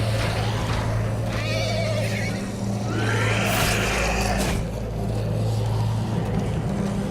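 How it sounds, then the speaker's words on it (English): Horses neigh in The Walking Dead: A New Frontier game, with a couple of clear whinnies rising over a steady low hum and background noise, fairly near and loud. "What the hell's going on with the horses in the background?"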